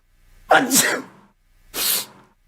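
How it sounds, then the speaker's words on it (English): A person sneezes loudly and close up, then after a short pause a second breathy burst follows. "Bless me. I'm about to sneeze."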